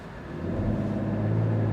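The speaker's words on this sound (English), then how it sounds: "We'll just brake torque it, we'll floor it." A 2024 Mercedes-Benz GLE 450 4Matic accelerating at full throttle from a brake-torqued launch, heard as a steadily rising, smooth engine drone that swells and holds under a constant low rumble.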